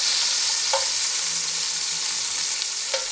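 Lamb pieces for a navarin sizzle steadily in a hot pan, a loud continuous hiss close by, with a couple of faint utensil clicks against the pan.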